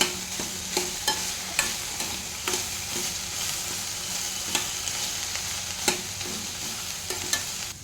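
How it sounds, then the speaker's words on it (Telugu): Cut okra pieces frying in a pan, a steady dense sizzle with spoon stirring clicks and scrapes at irregular intervals, close and without talk. "కట్ చేసుకున్న బెండకాయ వేసుకున్నాను ఈ బెండకాయల్లో జిగురు పోయేంత వరకు వేయించుకోవాలి"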